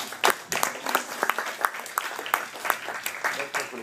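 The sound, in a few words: audience applause in church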